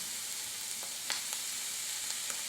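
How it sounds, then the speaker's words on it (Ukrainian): Oyster mushrooms fry in a well-heated pan with generous oil, giving a steady close sizzle broken by a few brief crackling pops, with no voices. "На добре розігріту пательню викладаємо гливи, обсмажимо до тих пір, поки вся рідина не випарується"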